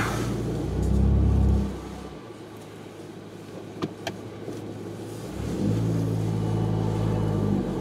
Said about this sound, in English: And then we will continue the ride to work.